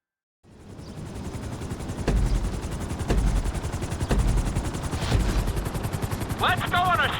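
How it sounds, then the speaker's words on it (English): A helicopter in GTA V, during a flight school mission on PlayStation, spools up into a loud rotor drone with heavy thumps about once a second, and a brief voice comes in near the end. "we're gonna put you in a helicopter for this"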